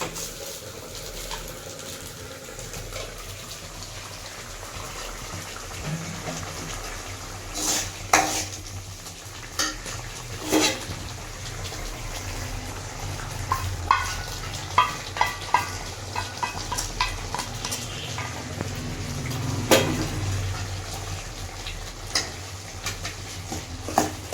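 Egg curry gravy simmers in a pan while a spoon stirs it through, giving a steady low bubbling sizzle broken by scrapes and occasional clinks against the metal. There is no talking.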